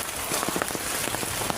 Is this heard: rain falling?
yes